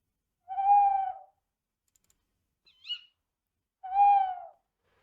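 An owl hoot built from two separate calls, a twit followed by a twoo, with a short chirp between them. Two clear, close hooting notes stand alone against silence.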